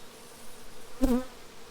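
Honey bees in a small nuc hive give a short, faint buzzing burst, briefly rising and falling over a quiet background.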